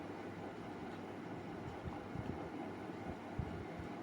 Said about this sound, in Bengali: এবার আবার আমি এটাকে ভালো করে গ্রাইন্ড করে নিয়ে একটা স্মুথ পেস্ট বানাবো